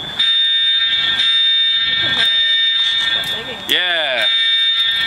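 A loud fire alarm keeps sounding in a continuous piercing electronic ring, while several people talk over it throughout.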